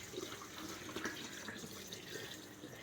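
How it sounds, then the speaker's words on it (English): A half gallon of lukewarm water is poured into a container for making water kefir soda, giving a soft continuous splashing gurgle, faint and steady throughout. "now I'm going to dump in a half gallon of water into here"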